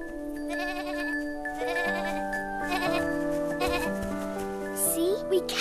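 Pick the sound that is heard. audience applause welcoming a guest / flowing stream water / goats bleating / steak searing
goats bleating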